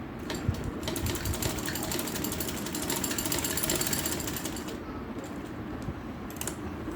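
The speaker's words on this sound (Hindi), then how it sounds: "ये इस तरह से रखें एंड यहाँ पे सिलाई कर दें।" Sewing machine stitching an open slit on a shirt, running double seams near the collar; a steady, close mechanical whir and rapid needle clatter continues for the whole stretch with no talking.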